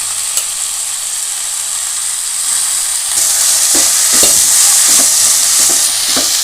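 Soaked toor dal sautéing in a hot pan for a chutney, a steady sizzle that grows louder midway, with repeated scraping stirs of a spoon against the pan and no voices.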